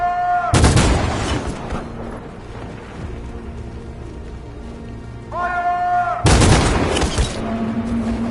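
Two loud bursts of gunfire on unarmed protesters in the video game Detroit: Become Human, each a sharp crackling volley over a low rumbling backdrop and sustained tones, separated by a quieter stretch.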